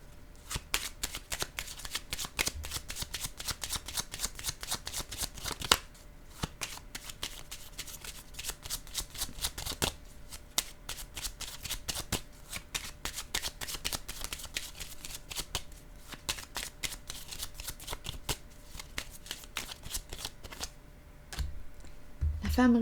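Playing cards being shuffled and drawn, a steady run of quick crisp riffling and flicking taps that goes on for over twenty seconds at moderate volume, with a voice speaking quietly in places.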